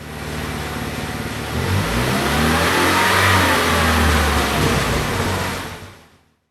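Turbo LS-swapped Ford Fusion raised off the ground with its front tires spinning, the engine revving up in a rising, sustained roar that holds loudly, then fades out to silence at the end.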